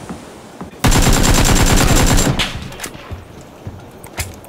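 Loud automatic gunfire in PUBG: one rapid, close burst of shots lasting about a second and a half, followed by a few scattered quieter shots.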